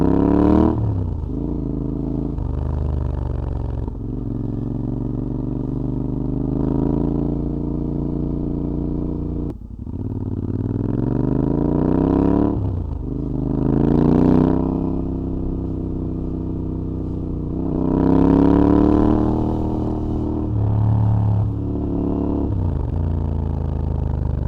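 Motorcycle ridden slowly through town on a 14-tooth front sprocket, its engine droning steadily with repeated rising and falling revs as it speeds up and slows down, heard close with no speech.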